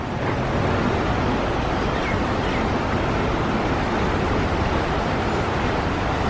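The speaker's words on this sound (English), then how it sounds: "no wonder it's forming such a huge waterfall" Iguazu Falls gives a steady, dense roar of heavy falling water, a continuous broadband wash that stays constant throughout with no talk over it.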